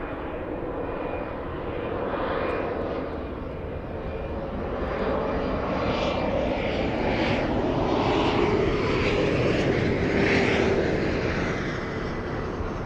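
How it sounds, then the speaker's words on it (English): A CRJ regional jet touches down at Los Angeles airport, a broad, loud engine roar that swells and holds steady, heard from a distance and continuous throughout. "CRJ touching down right now"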